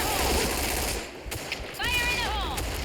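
Bursts of rapid automatic gunfire from a shooting video game, loud and continuous, broken by brief gaps and a whistling game effect.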